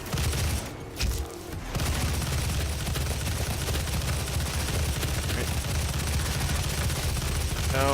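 Steady gunfire and combat noise from Doom SnapMap keep up a dense, loud wash for most of the stretch, with a brief dip near the start.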